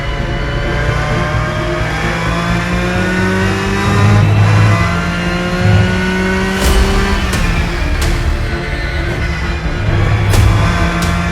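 A Porsche 992 GT3 R race car in a sim racing game, its 4.2-liter naturally aspirated flat-six wailing loud and close as it revs through repeated upshifts and brief lifts off the throttle.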